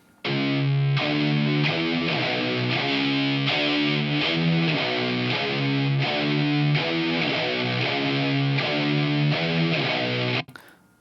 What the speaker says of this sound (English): So with that EQ.